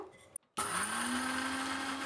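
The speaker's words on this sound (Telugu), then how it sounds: "ఇక్కడ కల్లుప్పు తీసుకున్నాం కదండి, దీన్ని కూడా మిక్సీ పట్టేద్దాము" A kitchen mixer grinder grinding rock salt, starting after a short silence into a loud, steady high-pitched whirring whine with rising motor pitch, close by, no talk.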